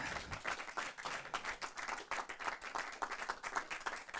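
Audience clapping after a German film talk, a moderately faint, evenly paced patter of many hands throughout.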